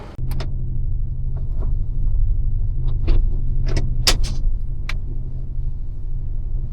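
A loaded truck drives out of a factory with a steady low engine rumble heard from inside the cab throughout, broken by a few sharp rattles and clinks from the cabin.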